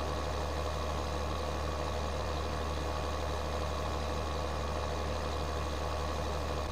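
A tractor engine in Farming Simulator 2013 runs at a steady, unbroken drone, loud and continuous with no voices over it.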